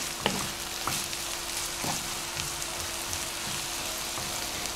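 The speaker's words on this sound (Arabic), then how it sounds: "ابتدي اقلب الكلام ده كله مع بعض وادبله كويس" Vegetables with garlic sizzle steadily in a pan while being stirred, giving a constant frying hiss broken by a few sharp scrapes and clicks, close and loud, with no talking.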